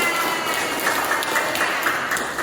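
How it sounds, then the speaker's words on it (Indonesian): Applause for a participant in a coaching session breaks out as a dense, steady patter of clapping hands that fills the whole short stretch at moderate volume. "Berikan tepuk tangan untuk teman kita."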